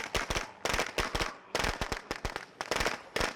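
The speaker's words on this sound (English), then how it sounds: "throw the firecracker right over there so we can lure out the screamer" A thrown firecracker goes off in State of Decay 2, a rapid string of loud, sharp pops in clustered bursts with brief gaps, close and alone without any voices.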